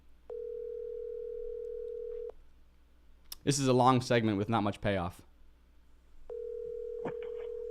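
A telephone call rings out as a steady ringback tone in two long pulses, about two seconds each, with a stretch of talk between them while waiting for someone to pick up.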